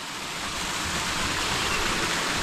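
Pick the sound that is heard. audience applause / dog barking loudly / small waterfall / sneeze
small waterfall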